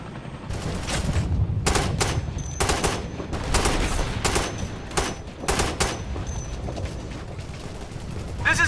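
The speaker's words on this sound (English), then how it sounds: "We're getting shot at." Bursts of automatic gunfire from the QJB-95 in the military shooter Operation Flashpoint: Red River, with repeated loud volleys and a constant din of combat in the background.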